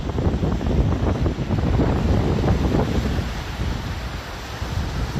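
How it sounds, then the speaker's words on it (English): Wind and waves on a large lake at Friar's Crag make a continuous, fairly loud broadband wash, with gusty wind buffeting the microphone that eases slightly toward the end. "Oh, those waves."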